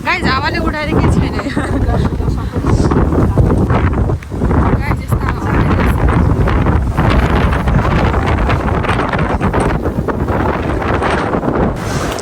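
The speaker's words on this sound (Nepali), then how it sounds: "तिमीले कस्तो ठाउँमा ल्यायो हावाले उडाउने" Strong wind buffets the microphone at an open memorial park in Newcastle, a loud continuous roar that rises and falls in gusts throughout, with people talking under the rumble.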